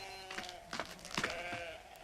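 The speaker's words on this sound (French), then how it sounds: "Ma parole, mais tous ces moutons, d'où sortent... Les moutons volés, sans doute." Several sheep bleat in short separate calls across a farmyard, close and moderately loud, overlapping into a small flock chorus with no talking.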